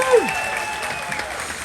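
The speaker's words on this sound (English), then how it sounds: "A big round of applause for Miss Ray." Cheering and clapping from a cruise-ship audience aboard the Carnival Vista, a steady crowd wash with a brief whoop near the start, close and fairly loud.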